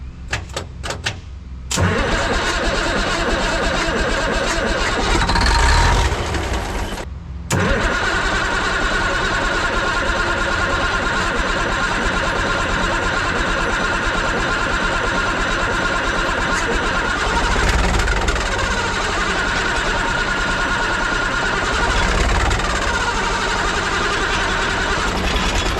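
An engine that had sat unused in weeds for 15 years cranks, catches after a brief cutout, and then runs loudly and steadily at a rough idle for over twenty seconds, close to the microphone.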